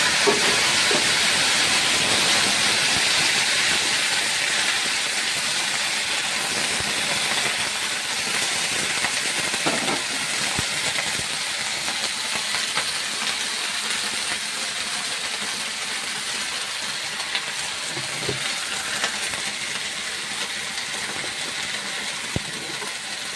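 Potatoes frying in the leftover oil of a home cooking pan for a Bangladeshi flat bean, potato and dried fish dish, giving a steady, close, even sizzle and hiss that continues without break and without talk.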